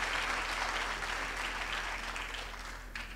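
A graduation crowd at VUT Main Campus gives a big round of applause for the graduates' grandparents, dense steady clapping that stays loud and slowly tapers.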